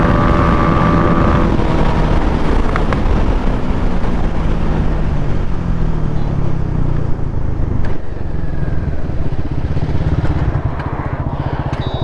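A drag race between a 2026 KTM Duke 390, Bajaj NS400z, TVS RR310 and Bajaj Dominar 400 brings a loud, sustained motorcycle engine roar heard up close while riding, buffeted by heavy wind noise, with no talk.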